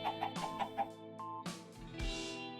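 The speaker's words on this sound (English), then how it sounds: "Chickens are small. They nudge easily. There we go. 8 chickens in there." Chickens in Minecraft Bedrock make a quick run of soft clucks at the start, followed by brief game effect sounds and a breathy noise burst near the end.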